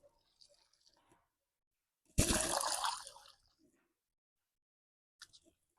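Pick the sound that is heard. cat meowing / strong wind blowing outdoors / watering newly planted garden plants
watering newly planted garden plants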